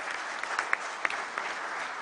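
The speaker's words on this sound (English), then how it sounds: "give them a big kind of a round of applause to them too at this moment itself" Graduation day audience clapping steadily in a hall, a dense, even patter of many hands with a few sharper claps standing out, no voices over it.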